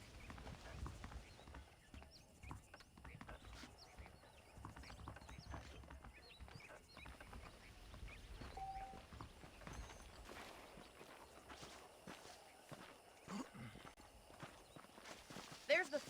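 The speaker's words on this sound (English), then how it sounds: "The horses are saddled up over here." Horse hooves clip-clop steadily in the Red Dead Redemption video game, faint and continuous beneath quiet game ambience and a speaking voice.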